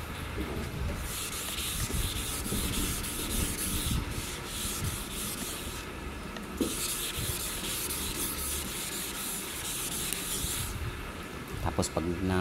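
Fine 800-grit sandpaper rubs over the pearl-white topcoat of a car to flatten pinholes, giving a close, continuous, loud scratchy hiss in long back-and-forth strokes with brief pauses, while a voice speaks faintly underneath.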